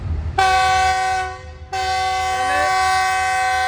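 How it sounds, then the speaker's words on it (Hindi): A Karachi Express passenger train hauled by a GU40 locomotive sounds a long, loud, close horn blast as it departs a station platform, briefly fading before a second sustained blast follows, with low rumble beneath. "1 नंबर प्लेटफॉर्म की जगह 2 नंबर प्लेटफॉर्म से कराची एक्सप्रेस रवाना हो रही है"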